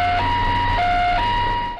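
An ambulance siren wails in a steady two-tone alternating pattern, loud and close, responding to a police car that crashed into a roadside tree while chasing a drunk driver.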